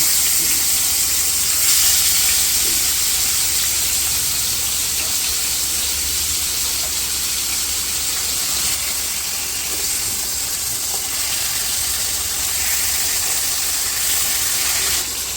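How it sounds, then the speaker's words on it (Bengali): Tilapia fish frying in hot mustard oil gives a steady, dense sizzle and hiss that stays even and fairly loud for the whole stretch, with no talking. "তেল গরম হয়ে গেছে, আমি মাছটা"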